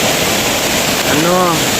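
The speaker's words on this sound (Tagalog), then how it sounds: "malakas ang ulan. Malakas din ang tubig. Malakas ang agas ng tubig." Heavy rain and a rushing mountain stream at Balagbag fill the scene with a steady, loud broadband roar, and a voice briefly speaks over the water near the end.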